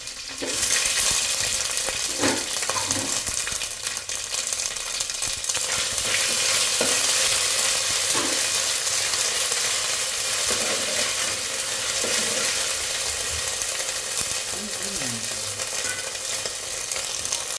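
Ginger garlic paste frying in a pan for paneer bhurji, a steady loud sizzle running throughout with occasional faint scrapes and clicks of a stirring utensil, close up and without speech.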